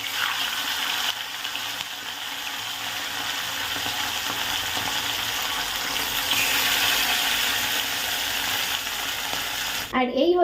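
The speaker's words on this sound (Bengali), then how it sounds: "আর এবার মাছটা ভাজবো" Fish fries in hot oil in a home kitchen, a dense, steady sizzle and crackle lasting the whole stretch, loud and close, ending in a brief clatter.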